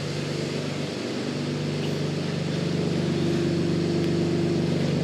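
A 2024 Porsche Panamera idling with its exhaust running, a steady low rumble and hum holding constant for several seconds, moderately quiet and close, with no talking.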